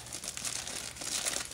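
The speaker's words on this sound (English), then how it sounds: "I guess I'll take this off. Just some tape on here." Packing tape peeling off the box of a Wacom Bamboo drawing tablet, a close, steady crinkling and tearing rasp that runs for about a second and a half with no talking.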